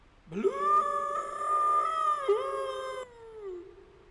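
A person imitates a Skunk Ape with a loud, sustained, ear-piercing howl lasting about three seconds, wavering in pitch with a brief break midway before trailing off.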